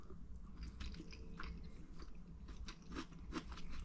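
Close, quiet chewing of a campsite breakfast cooked on a Blackstone griddle, with onions still slightly crunchy, giving soft repeated bites and crunches in an irregular rhythm.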